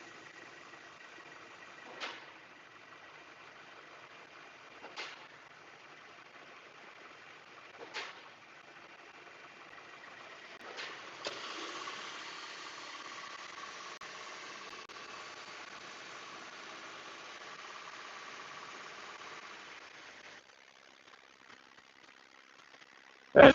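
A 2018 Subaru Forester XT engine held at a steady 2000 RPM gives a faint, even mechanical hum. A few short clicks come first, then a broader, steadier drone that ends in a sharp noise.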